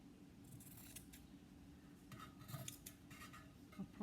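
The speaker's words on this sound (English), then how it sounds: "so I'm going to use my scissors." Scissors cut through fabric in a few quiet snips and crisp metallic clicks, close but faint, with no talking.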